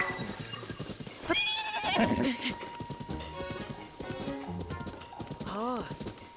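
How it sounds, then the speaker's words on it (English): Hooves clop along with a horse's whinny rising briefly as the horse is hit in a Zelda video game, mixed with game sounds and a person talking over them. "Oh, I hit the horse."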